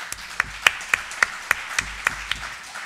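Slow, spaced clapping at a multiple sclerosis forum, about ten distinct sharp claps at a steady rhythm over a faint background of scattered audience applause.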